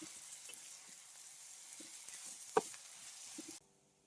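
Prawn curry in a pan with salt stirred in, giving a steady close sizzle and frying hiss with soft scrapes and one sharp knock of the spoon before the sound cuts off, with no talk.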